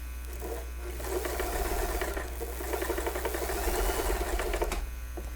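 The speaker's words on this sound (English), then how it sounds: "Now I'm gonna stitch. And look, I'm in a stitch length size 3," A home sewing machine stitches fabric at stitch length 3, its motor whirring in a steady, rapid needle rhythm that runs continuously for several seconds close to the microphone.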